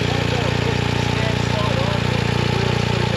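A BMW adventure motorcycle idles with a steady, close, low mechanical throb that runs evenly throughout, with someone talking faintly under it.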